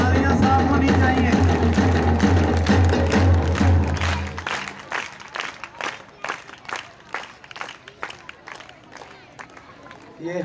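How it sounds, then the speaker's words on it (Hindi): Congregation at a Catholic church mass applauds, first under loud music, then as uneven bursts of clapping that rise and fall while a voice speaks over a microphone. "आप सबकी तालियां साफ होनी चाहिए।"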